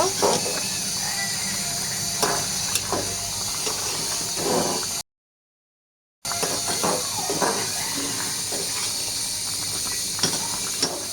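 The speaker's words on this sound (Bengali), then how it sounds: "এখন আমি এটা নামিয়ে নিয়ে সরিষা দিয়ে বাগার দিব।" Mustard tempering (bagar) for papaya curry sizzles with a loud, steady hiss like steam, broken by brief crackles and a short gap, while someone talks over it.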